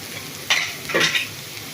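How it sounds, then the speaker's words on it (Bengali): Vegetables stir-fried in a pan: carrot, potato, green chili and onion, with two short bursts of scraping and sizzling from stirring, moderately close, and no talking. "গাজর, আলু, কাঁচামরিচ পেঁয়াজ দিয়ে ভাজি করলাম।"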